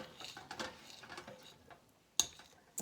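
Margarine stirred into a banana cream pie mixture, heard as quiet, uneven scraping and soft patter, then two sharp clinks of a utensil against the bowl near the end.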